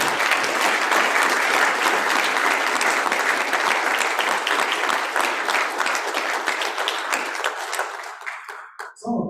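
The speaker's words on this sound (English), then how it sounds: "let's give the club another round of applause" Banquet audience at a convention gives the club a long round of applause, a dense, loud wash of clapping that holds steady and then tapers off near the end.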